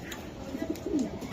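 Racing pigeons in a loft give soft, low, rolling coos, a few faint calls close together over a quiet background with no voices.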